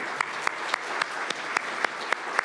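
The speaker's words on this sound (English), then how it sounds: "applauding each and every entrepreneur here today" An audience at a business excellence awards ceremony applauds entrepreneurs with sustained, even clapping, overlaid by sharp, regular rhythmic claps spaced about a quarter second apart, with no speech over it.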